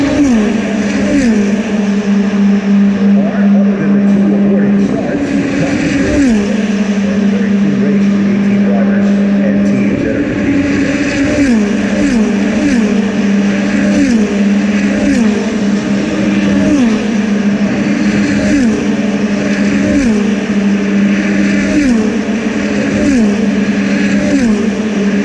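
Indy NXT open-wheel race cars at the GMR Grand Prix roar past one after another along the straight toward the yard of bricks, engines rising and falling in repeated loud pass-bys with a race commentator talking over them throughout.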